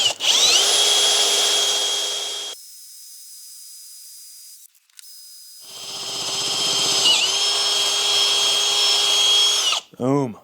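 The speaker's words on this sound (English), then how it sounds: "drilling with these larger drill bits by hand can get out of control" A hand drill boring through a metal frame gusset with a large bit gives a loud, steady whine with grinding hiss, stops for a few seconds, then spins up again and runs on before cutting off.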